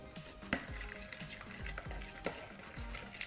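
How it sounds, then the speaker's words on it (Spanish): Honey is stirred into a strawberry crème brûlée mixture, a soft series of scraping, clicking utensil strokes against a bowl with a faint hiss underneath, repeated at an irregular rhythm and fairly quiet, with no voices. "Vamos a agregar más o menos 2 cucharaditas de miel y ahora vamos a mezclar."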